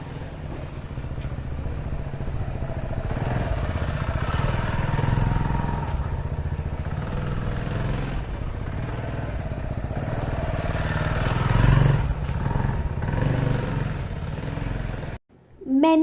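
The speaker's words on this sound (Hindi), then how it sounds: "आज मैं उस बाइक को चला रही हूँ।" A motorcycle engine drones steadily as it rides along, a continuous mid-pitched rumble with wind noise, briefly cutting out near the end.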